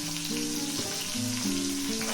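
Ginger and green chili drop into a hot frying pan for a banana kofta curry, giving a steady, close sizzle that runs throughout over soft tonal background music.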